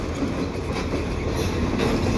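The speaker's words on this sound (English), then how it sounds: "Oh, there come the locomotives." CP freight locomotives pass close by on the line into Lachine, a loud, continuous heavy rumble with rail clatter and no break.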